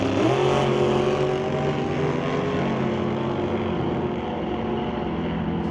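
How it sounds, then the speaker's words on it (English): Drag racing cars, a dragster and a Nova, launch hard down the strip at an outlaw shootout, their engines roaring loudly with rising pitch as they pull away, a dense sustained blast with no voices. "Both cars launching hard"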